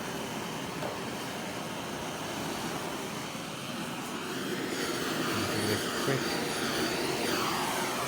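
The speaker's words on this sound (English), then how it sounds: "you need to start using the flame to get rid of all these little tiny bubbles" A gas torch flame sweeps over freshly poured epoxy on an epoxy river table joining two large wood slabs, making a steady, close, broadband roaring hiss that runs unbroken and grows slightly stronger in the second half.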